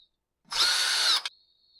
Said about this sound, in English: So I'm just loosening those two screws up enough to pull the muffler back a little bit.